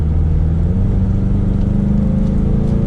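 2022 Ford Mustang EcoBoost taking a sharp left turn, its engine giving a steady close drone whose pitch climbs gradually as it pulls through the corner, and nobody speaks.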